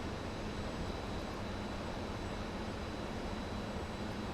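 An F-14 Tomcat jet engine with afterburners in Microsoft Flight Simulator gives a steady, loud, full-bodied roar that holds unbroken throughout, with no voices over it.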